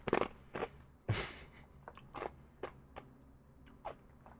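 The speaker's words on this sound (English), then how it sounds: "I have to crunch through the ice to be able to talk" A piece of ice from a cold brew coffee is crunched between the teeth, giving a few sharp, close bites followed by lighter scattered crunches of chewing.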